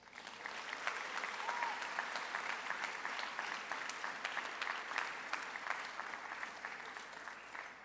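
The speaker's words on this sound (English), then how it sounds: "would you give these folks a round of applause?" The audience at the University of Vermont 2022 Honors College Scholars Recognition Ceremony gives a sustained round of applause, an even, distant-sounding wash of many hands clapping heard in a large hall.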